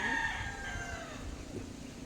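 A rooster crows loudly up close, its call trailing off, while other chickens cluck softly in the background.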